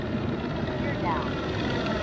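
A Flightline Corsair F4U-1A radio-controlled plane on a 6S electric setup flies overhead, a steady whining propeller drone heard from a distance under a constant broad outdoor hiss.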